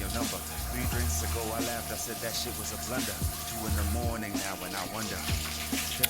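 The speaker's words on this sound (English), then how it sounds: "so now we're rinsing all of the shampoo off" Running water from a tap splashes steadily while shampoo is rinsed out of hair, a continuous close wash of flowing water with a voice talking over it.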